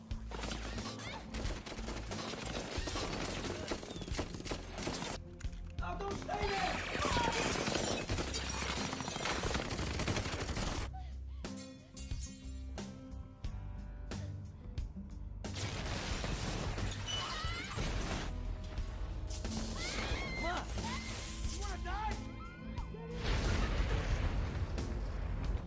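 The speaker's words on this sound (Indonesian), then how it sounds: "orang-orang itu tersebut pun menembaki rumah Frank sampai rumah itu hancur" Film action scene of a house being bombed and shot up until destroyed: dense, continuous gunfire bursts and booming explosions roar loudly throughout, with horse whinnies mixed into the chaotic soundtrack.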